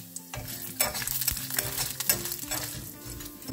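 Urad dal and chana dal fry in a pan, a close, steady sizzle broken by repeated scraping stirs and clinks of a spoon against the pan.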